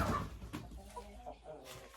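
Hens in a hen house give soft, brief clucks, quiet and close, with a few short calls scattered over about two seconds.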